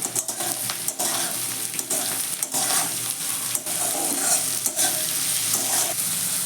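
Vegetables for savoury suji upma fry in a pan while being stirred, with a loud close sizzle broken by repeated scraping strokes of a spatula, and no speech.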